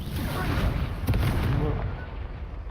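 A Confringo explosive spell goes off in Hogwarts Legacy, a deep rumbling blast with a sharp crack in the middle that rolls on heavily before dying away, dense low-end boom filling the short moment.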